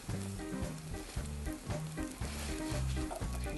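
Egg frying in a stainless steel pan over a campfire outdoors, with a steady close sizzle and crackle running throughout, no talk.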